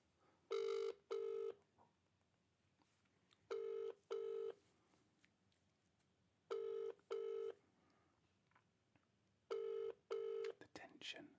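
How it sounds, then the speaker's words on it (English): A phone call being placed: four pairs of short touch-tone beeps ring out in a steady rhythm, clear and fairly loud over a quiet background, with faint whispering between the tones. "Should we try calling Nils? Let's see what happens"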